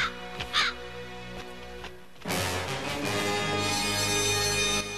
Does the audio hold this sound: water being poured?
no